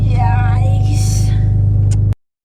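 A loud car engine starts with a burst, then holds a strong, steady low rumble for about two seconds before cutting off abruptly, with a voice speaking over the start.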